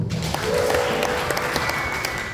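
A church congregation claps together in sustained, dense applause, steady and fairly close, with a faint voice or two mixed in.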